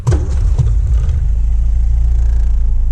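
A 1953 Austin Healey 100 engine catching after the starter and settling into a steady, low, rumbling idle at close range, with no talk over it.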